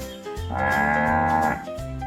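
A single long, loud cow moo rings out in a barn, one drawn-out call lasting over a second against quiet background lowing.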